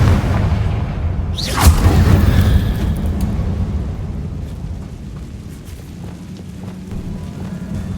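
A Confringo fire-blast spell from Hogwarts Legacy bursts in a single loud boom with a sharp whooshing onset, then rolls off into a long rumbling tail that fades amid quiet ambience.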